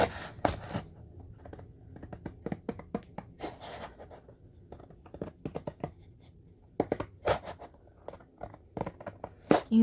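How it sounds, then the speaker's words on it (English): Two sheets of watercolor paper are cut in half, giving quiet, close, irregular crisp snips and rustling scrapes spread across several seconds, with no talking. "I am working with 2 sheets, cutting them in half."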